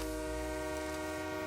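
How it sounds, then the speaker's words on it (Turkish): Train in PUBG Mobile on the Erangel map, a sustained tonal horn-like drone with steady low rumble, heard briefly and fairly loud with no talking. "Trene binelim gidelim"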